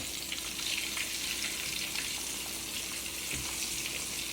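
Pork chops fry in a pan, a broad, even, steady sizzle close by with faint occasional bumps and no speech.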